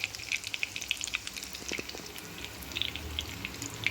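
Potato and poha cutlets sizzle in oil in a pan, a quiet, steady crackle of frying with small pops scattered throughout, heard alone at close range.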